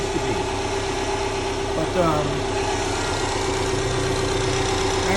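Subaru WRX engine idling steadily with a low, even rumble and some vibration, while a person speaks briefly over it.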